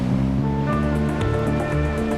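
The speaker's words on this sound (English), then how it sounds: "Beautiful glassy waves, smooth condition." Ocean surf on an uncrowded beach with glassy, smooth waves makes a loud, continuous wash and rumble with no voices.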